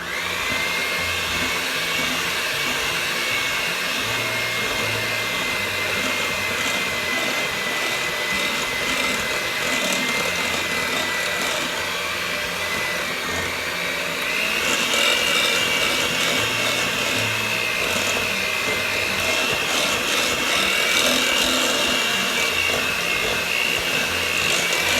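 An electric hand mixer runs without stopping as it works strawberries and spoonfuls of juice into cake batter, making a loud, steady motor whine that shifts pitch slightly partway through.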